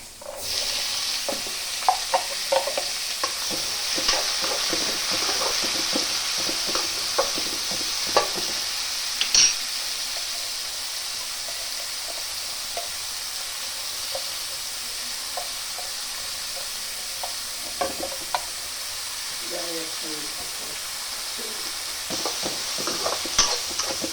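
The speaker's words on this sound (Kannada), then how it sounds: "ಉಳ್ಳಾಗಡ್ಡಿ ಬೇಗನೆ ಸ್ಮ್ಯಾಶ್ ಹಾಕೋದಕ್ಕೆ ಉಪ್ಪನ್ನು ಹಾಕೊಂಡು ಉಳ್ಳಾಗಡ್ಡಿ ಫ್ರೈ ಆಗಲು" Chopped onions with salt fry in a pan, a constant hissing sizzle broken by repeated scraping stirs and clicks of a spoon against the pan, close and alone throughout.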